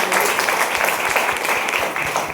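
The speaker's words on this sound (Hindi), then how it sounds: "मैं चाहता हूँ कंपनी और कंपनी एमडी के लिए एक जोरदार और शानदार ताली हो।" A crowd at an Ayurveda company event applauds the firm and its managing director, a continuous wash of clapping at steady loudness with no pause.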